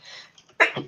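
A person sneezes once during a tabletop Dungeons & Dragons session. A faint breathy lead-in comes first, then a short, sharp burst close to the microphone.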